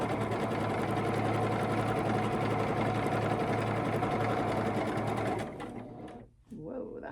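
Sewing machine stitching a quarter-inch seam on a quilt block, a steady loud continuous whir for about five seconds that then stops, leaving a quieter pause with a brief shuffle.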